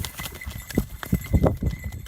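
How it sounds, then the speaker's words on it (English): A horse charging on a forest trail toward two dogs, with several heavy, uneven hoof thuds close by amid rustling and scuffling. "the horse begins thrashing aggressively before charging directly toward the two dogs."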